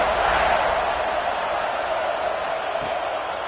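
A football stadium crowd at Auburn gives off a constant, broad roar that holds steady through the clip and fades slightly toward the end, with no single voice standing out.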